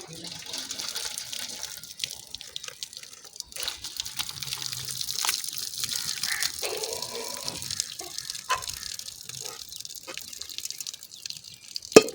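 Steady trickling and splashing of water poured off soaked potatoes, with occasional clinks and drips, continuous and close by.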